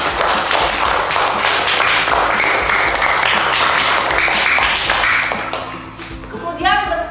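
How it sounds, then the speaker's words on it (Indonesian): A third-grade elementary classroom applauds together, dense clapping that runs steadily for about five seconds before fading out, with voices heard near the end. "Tepuk tangan semuanya."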